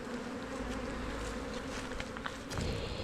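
Honey bees buzz in a bee yard during a hive inspection, a continuous close hum of many wings with a few soft footsteps or knocks underneath.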